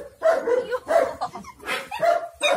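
A Rottweiler puppy barks in a run of about five short, sharp, close yaps and yips spaced roughly half a second apart, with a faint whimpery edge.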